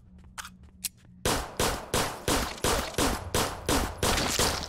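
Gunshots in the video game Zompiercer: after a few faint knocks, about ten loud, evenly spaced shots fire in steady rhythm, each one sharp and close with a short decaying tail.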